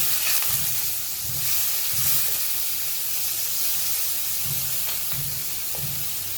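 Chopped medium onion frying in hot oil with turmeric in a pan over lowered heat, giving a steady close sizzling hiss throughout with faint low clinks of stirring.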